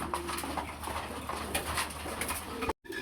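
Pigeons kept as a pair for sale coo softly and repeatedly at close range, a low throaty burbling over a faint background hum, with no talk, ending in an abrupt cut.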